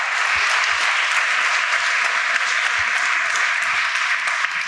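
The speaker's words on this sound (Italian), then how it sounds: "Un applauso ai boomer in sala." A hall audience applauds the boomers among them during a talk on the invention of the boomer, producing thick, sustained clapping from many people that holds evenly loud for nearly five seconds.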